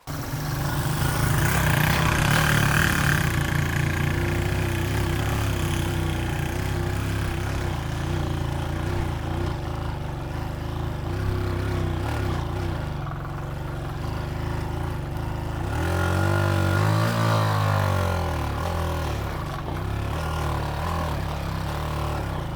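A Hartford Mini 125 motorcycle engine runs continuously off-road for the whole stretch, a loud steady drone with a strong low hum that shifts pitch as revs rise and fall near the end.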